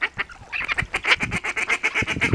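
A pet duck quacking loudly and repeatedly in a rapid, insistent run of honking calls, close by with no talking over it.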